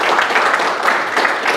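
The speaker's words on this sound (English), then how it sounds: "Can you give them a round of applause for spending their time?" Applause from a talk audience at a Steemfest conference, a steady dense patter of many hands clapping close by, sustained evenly without a break.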